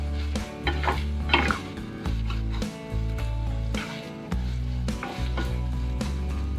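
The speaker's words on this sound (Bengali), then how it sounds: "প্রথমে পেঁয়াজ দিচ্ছি। পেঁয়াজটা একটু নেড়ে চেড়ে নেব।" Onions sizzling in a pan while a utensil scrapes and stirs in repeated strokes, the frying hiss steady underneath.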